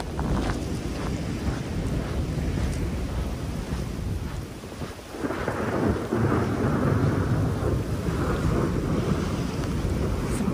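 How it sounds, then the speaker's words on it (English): Heavy thunder rolls through a thunderstorm with rain pouring down and wind buffeting the microphone, loud and continuous for about ten seconds, with a fresh surge of rumble midway and no talk. "Some crazy thunder."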